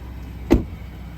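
Power running steps on a second-generation Ford Raptor pickup retract with a single short, fairly close thunk over a quiet background, with no talking.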